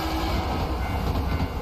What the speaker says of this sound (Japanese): 電車が通りましたね。